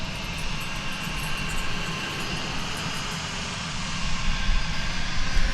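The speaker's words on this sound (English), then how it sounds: "Here comes Alaska Airlines Flight 414, the 737-9, coming in from Seattle" An Alaska Airlines Boeing 737-9 arrives at DFW Airport, a steady broadband jet roar that swells slightly toward the end, heard from a distance without any talk.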